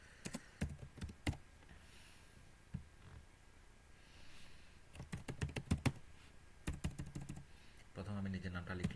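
Someone types a name on a computer keyboard into a government job application form, producing scattered quiet keystroke clicks in short clusters with gaps between them. A voice speaks softly near the end.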